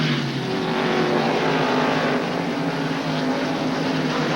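Stock cars race at Watkins Glen in 1994, a dense, loud, continuous engine roar with steady droning pitch from several cars running close together.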